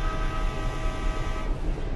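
A sustained, steady train horn in a video game blares over a low rumbling engine, then tapers off toward the end.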